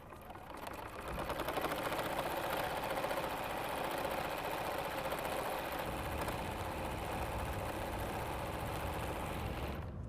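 Mini quilter sewing machine doing free motion quilting, its motor and needle making a steady, continuous mechanical whirr with a fast stitching rattle. The sound runs close and unbroken for the whole stretch, with no talk.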